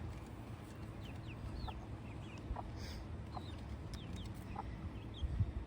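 Chickens in an outdoor chicken pavilion with places to dig and scratch make faint, scattered clucks and brief chirps over a steady low background rumble, with no talking.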